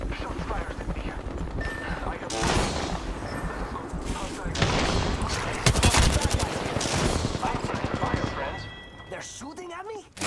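Rapid gunfire crackles through a video game firefight, bursts of automatic shots layered densely with occasional booms, while a voice talks over the action throughout.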